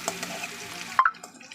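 Food frying in a pan in a home kitchen sizzles steadily at close range, then is cut off by a sharp clatter of utensils and quieter stirring.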